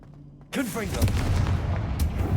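A Confringo fire spell bursts in Hogwarts Legacy, a sudden loud blast with a whooshing sweep that rolls into a sustained rumbling crackle, after a quieter lead-in.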